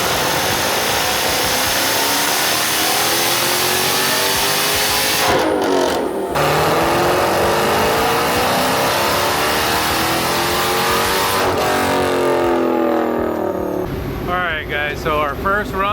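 A Dodge Hellcat V8 fitted with a Formula Z exhaust pipe revs hard on a dyno, with long rising and falling engine pulls. The sound is loud and close, with brief lulls between runs, and a voice is heard alongside.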